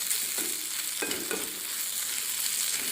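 Dried anchovies, nethili karuvadu, roasting in a pan give off a steady broadband sizzle with a few brief scraping stirs, close and continuous, and no voices.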